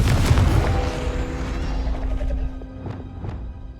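Confringo fire blast spell from Hogwarts Legacy, heard as a loud booming explosion that rolls and fades over a few seconds, followed by a couple of faint sharp crackles.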